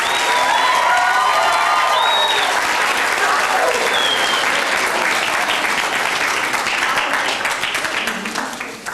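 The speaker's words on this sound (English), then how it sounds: "give yourselves a big round of applause." An audience of students, administrators and board members at a school kids voting kickoff event bursts into loud, sustained applause that fills the room and fades slightly near the end, with a few cheers mixed in.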